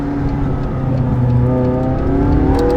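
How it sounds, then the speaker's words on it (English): A McLaren 675LT supercar engine revs loud and close on the road, a continuous rising roar with shifting tones as it accelerates through gears; ignition pops on shifts are not distinct, and no one speaks. "And the engine's making a good noise because it pops the ignition on upshifts and downshifts."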